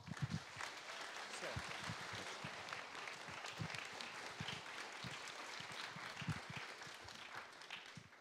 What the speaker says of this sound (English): it's quite embarrassing to get that much applause